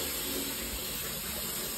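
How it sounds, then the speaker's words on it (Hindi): Faint, steady hiss of water running indoors, an even wash of sound that holds constant without breaks, with no voices over it. "पानी की आवाज़ आ रही होगी यहाँ पे अंदर"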